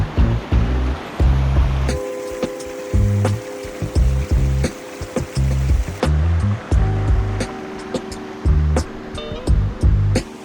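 Creek water rushes steadily near the waterfall at Wheeney Gap in Sydney's bushland, a continuous wash broken by loud, close thumping bursts like footsteps or handling.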